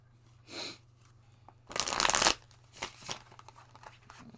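A deck of cards is shuffled up close: one dense riffle burst lasting about half a second, with softer handling rustles before and after it.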